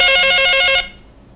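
A telephone rings with an incoming call to a Thai radio call-in show, a loud, close trilling bell in rapid repeated bursts for under a second before cutting off into quiet.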